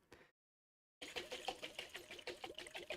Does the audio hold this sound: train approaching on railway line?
no